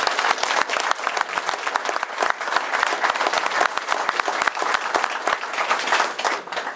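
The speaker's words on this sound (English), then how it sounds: "If I could have a fantastic round of applause for this man." An audience gives a long, steady round of applause, dense clapping from a crowd filling the room at a moderate, even level.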